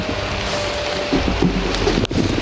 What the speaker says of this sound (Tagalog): Nandito na yung ulan, no?